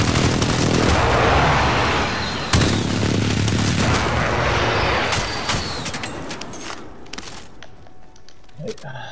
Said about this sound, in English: I've stuck an airstrike on it.